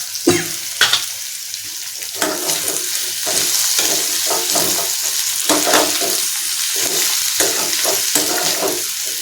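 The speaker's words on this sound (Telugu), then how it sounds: "రొయ్యలు ఉడికినాయి కాబట్టి తొందరగా వేగిపోతుంది ఇవి ఒక పది నిమిషాలు వేపించుకోవాలండి" Boiled prawns fry loudly in a pan over a medium flame, with a steady close sizzle broken by sharp crackles and scraping stirs, and no talking.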